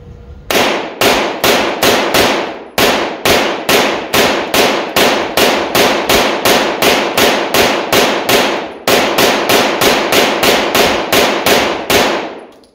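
A Stribog SP9A3 9mm carbine fires a 30-round string outdoors: loud, sharp, evenly spaced shots in rapid bursts with brief pauses, each report ringing close and dominant with no talking.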